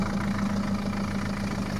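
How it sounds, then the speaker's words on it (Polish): Car engine idling while serving as a generator, driving a fitted alternator, with the throttle raised a little; a steady low rattling hum with a strong even drone, close and continuous, with no talking. "Będziecie sobie słuchali e, radosnego klekotania mojego silnika w tle"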